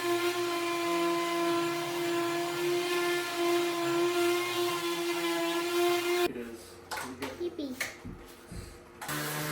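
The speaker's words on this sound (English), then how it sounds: "The oscillating sander is perfect for interior corners." A corded oscillating sander whirs steadily with a high buzzing hum while sanding interior corners, then cuts off partway through, leaving handling noises; someone talks over it.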